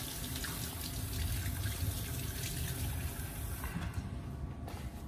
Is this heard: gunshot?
no